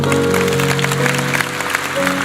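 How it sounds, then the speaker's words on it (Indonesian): A church congregation applauds during a sermon with dense, continuous clapping over a sustained musical tone, lasting a couple of seconds. "Kasih tepuk tangan untuk Tuhan."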